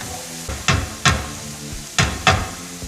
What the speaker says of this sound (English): we're gonna let that sizzle just a little